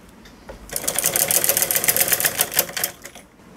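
An electric sewing machine stitches piping along the edge of a sleeve, its fast, even needle clatter starting after a brief pause and running steadily for about three seconds before stopping.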